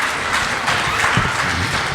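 An audience at a school annual day applauds, with dense, continuous clapping filling the whole moment at an even, fairly loud level.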